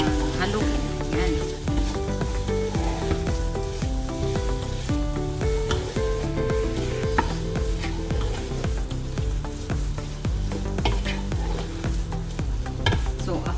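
Lamb stew meat sizzles in a pan after tomato paste goes in, a dense steady frying crackle with stirring, partly under a persistent tonal hum that may be background music.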